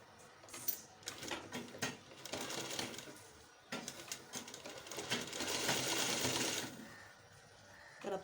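A sewing machine runs stitching lace onto a kurti neckline, fast rattling bursts broken by short pauses, then a longer steady run before it slows, moderately quiet with no voices.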